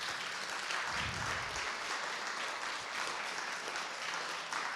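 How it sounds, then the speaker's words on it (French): An audience applauds three speakers at the close of a public debate on religion, a dense, steady clapping that holds for several seconds at an even level. "Je pense que les trois intervenants méritent nos applaudissements."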